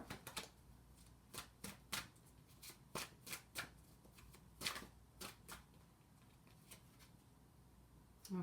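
Tarot cards are shuffled in a quiet room, a rapid series of crisp riffling bursts close to the microphone with brief pauses between them; no talking.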